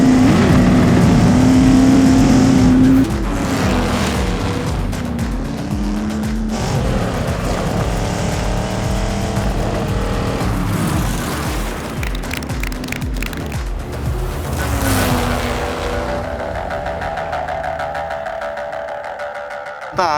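A race car at full throttle, its engine note climbing and shifting through gears in loud repeated surges, close and continuous before fading away at the end, with no talking.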